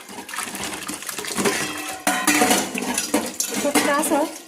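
Steel containers clatter and clank as they are scrubbed by hand under water, with a steady splashing wash. The metallic knocks come close and frequent, getting louder partway through, and no one speaks.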